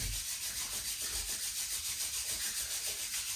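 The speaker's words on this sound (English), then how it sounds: "So you rub the hands a little bit." Two hands rub briskly together to warm up during a relaxation exercise, making a soft, close, rhythmic swishing friction sound with repeated strokes, and no one speaking.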